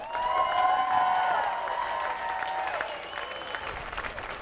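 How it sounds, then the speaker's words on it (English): A rally crowd applauds the organizers at an outdoor Families Belong Together protest in San Francisco, sustained clapping with whistles and cheers ringing over it, steady throughout. "And thank you to our organizers. Let's give them a round of applause."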